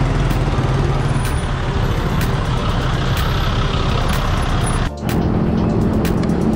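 Heavy road traffic on MacArthur Highway in Valenzuela forms a dense, constant roar of trucks, buses and cars close by, with a brief dip near the end.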